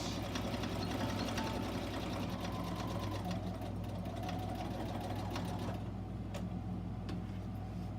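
A sewing machine stitches across a box bag, its needle running in a fast, steady mechanical whir close by, easing off briefly near the end.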